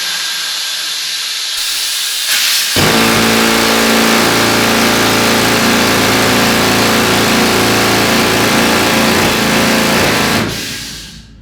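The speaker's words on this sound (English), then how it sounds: "I twist that cob slightly forward, compressed air runs in my drill head, down this leg, and it shoves into the rock for me" Compressed-air rock drill in a gold mine, starting with a hiss, then roaring up into a loud, sustained, rattling pneumatic blast heard close by, before cutting off and fading near the end.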